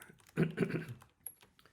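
A short, quiet burst of keystrokes sounds on a computer keyboard during coding, forming a dense cluster of clicks followed by a few isolated taps.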